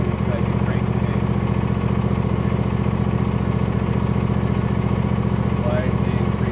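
A John Deere E120 lawn tractor engine idles while warming up, a steady, close, rapidly pulsing mechanical drone with constant loudness and faint higher clicks on top.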